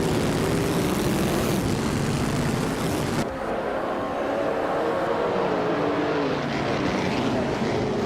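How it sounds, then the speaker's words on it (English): Vintage racing car engines, including a 1938 Maserati 8CTF, roar together at a race start in a video game, a loud continuous droning blare that drops off abruptly partway and then carries on steadily. "Just Pancakes is on pole driving a classy 1938 Maserati 8CTF"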